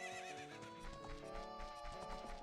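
Epona, a horse in Zelda: Ocarina of Time, neighs with a whinny over musical tones while her hooves clip-clop in a quick galloping beat, clear and close.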